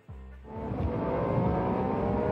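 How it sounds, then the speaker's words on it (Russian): A cartoon ambulance drives off with a steady engine roar that starts abruptly and swells into a dense, continuous hum, loud and close, with no voices over it. "Машина скорой медицинской помощи помогает перевозить больных в больницу."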